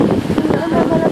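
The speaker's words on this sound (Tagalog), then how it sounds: "Ganyan yun naman yung hangin. Ganyan yung lakas." Strong wind blowing outdoors by a shopping mall, a continuous loud roar buffeting the microphone, with a voice faintly mixed in.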